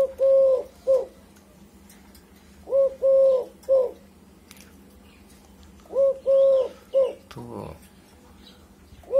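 Emerald doves, spotted doves and Eurasian collared doves kept for breeding coo in repeated three-part phrases, close and clear, spaced a few seconds apart, with a brief voice and light rustling between calls.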